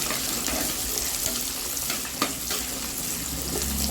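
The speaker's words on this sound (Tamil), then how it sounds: "பூண்டு, பச்சை மிளகாய் 4, அதை போட்டு நல்லா நம்ம எண்ணெயிலே வதக்கலாம்" Garlic, small onions and green chillies sauté in oil for a spicy fish curry, giving a dense, steady sizzling hiss with a couple of faint utensil knocks.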